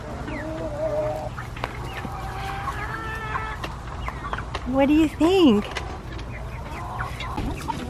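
Backyard chicken flock clucking and calling at moderate distance, with a louder, rising-and-falling squawk near the middle, under brief talk.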